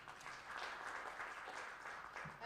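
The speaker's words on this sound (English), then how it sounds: "give yourselves a round of applause" Audience applause at an evening launch event, a steady dense wash of clapping held at a fairly even level for the whole stretch, with no voices above it.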